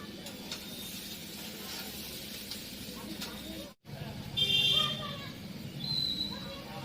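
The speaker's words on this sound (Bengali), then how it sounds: "এদিকে আলু ভাজা পুড়ে যাচ্ছে আমার" Potatoes frying in a pan, a steady sizzle running under the whole stretch with a few brief clatters of stirring near the end, while someone talks over it.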